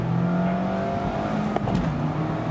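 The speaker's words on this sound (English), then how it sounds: "You're able to downshift and just rev it out." A 2020 Mazda MX-5 sports car engine hums steadily with a brief rev surge midway on a downshift, close and fairly loud.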